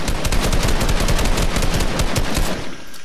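Loud, sustained automatic gunfire in the Fortnite video game as a player shoots at a tree, a fast, steady stream of close rounds that cuts off near the end.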